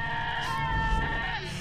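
A sheep bleats in long, wavering tones over a low steady hum, continuous for just under two seconds, in the video game Albert and Otto while the sheep is on fire.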